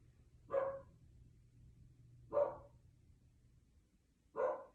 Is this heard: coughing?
no